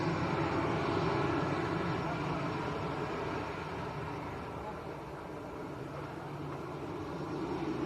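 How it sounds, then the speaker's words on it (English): An Airbus A320 airliner at Lanzarote Arrecife Airport sends out a broad, steady jet roar that swells and eases slightly over several seconds, heard from a distance with open-air background. "Airbus A320. Delta Alpha India Whiskey Hotels the reg. Makes it a 6-year-old Airbus."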